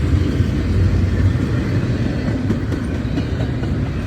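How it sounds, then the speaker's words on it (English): A high-priority freight train of articulated intermodal BLSF well cars rolls past in a steady, close, continuous rumble with faint wheel clatter, unbroken for the full stretch. "High priority intermodal articulated. BLSF well car."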